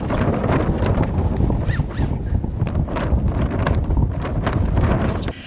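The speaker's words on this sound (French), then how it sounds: "le problème c'est que le vent ne va pas se calmer" Strong wind roars and buffets a microphone continuously aboard a sailboat at Taha'a, a loud, steady rumble with gusty surges throughout.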